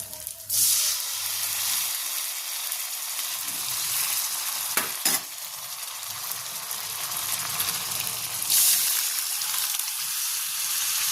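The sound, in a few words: cooked dal (lentils) added to hot pan, sizzling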